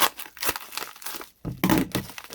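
Paper and plastic shipping packaging for heavy-duty Samsung Galaxy S5 cases is torn and crumpled by hand in close, loud bursts of crinkling and ripping, with a short pause midway.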